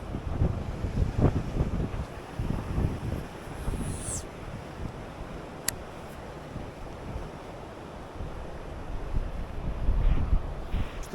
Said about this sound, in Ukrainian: ветер тут взагалі дме